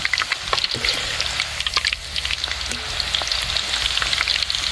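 Thin banana slices fry in very hot oil, giving a dense, continuous crackling sizzle with sharp pops scattered throughout, close by and without talk.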